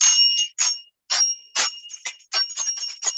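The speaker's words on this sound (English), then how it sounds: "Bangles are, making this beautiful sound." Glass bangles on a woman's wrist jingle in quick bright clusters, several sharp clinking bursts with short ringing tones separated by brief silences, close and clear with no talking.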